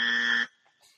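A harsh buzzer sound effect on a podcast blares loud and steady for about half a second, then cuts off, leaving only faint trailing noise.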